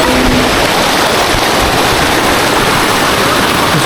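A waterfall stream rushes with a strong current along a Rangamati forest trail, giving a loud, unbroken roar of water close by with nothing else audible.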